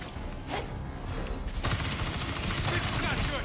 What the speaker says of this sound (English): I'm being shot at. I'm shooting.